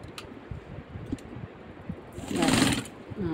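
A sewing machine stitches kameez fabric along the seam margin, quiet handling and fabric pulls first, then a brief loud whirring run of stitching near the end.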